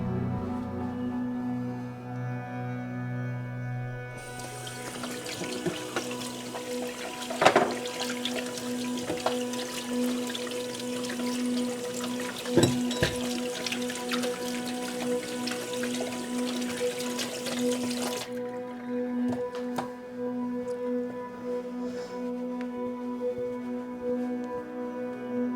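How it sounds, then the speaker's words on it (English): Tap water running into a sink while hands are washed under it during pumpkin carving: a steady, close hiss and splash that starts and then stops, with faint clatter around it. "washing my hands"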